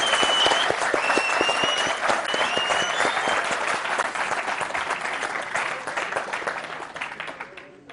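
Sustained audience applause at a Pashto music gathering, many hands clapping close and loud, with occasional whistles, slowly fading toward the end.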